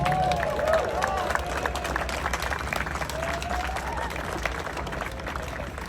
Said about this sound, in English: Let's give an applause to Steve